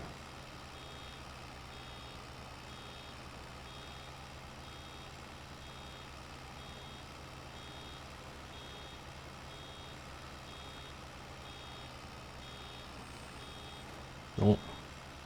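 In a farming video game, a baler backing into bales sounds steady reversing beeps over a constant low engine drone throughout, faint and even, with one short sharp thump near the end.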